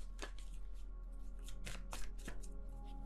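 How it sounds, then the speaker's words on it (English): Tarot cards being shuffled in quick riffling bursts, repeated several times over a steady low hum, close and fairly quiet, with no talking. "I'm finding it really hard to shuffle."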